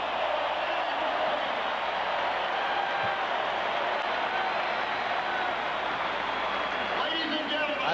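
Large 1985 college football stadium crowd of Miami at Florida State roaring steadily in the closing seconds, a dense, sustained wash of cheering and applause that stays loud and even throughout with no pauses.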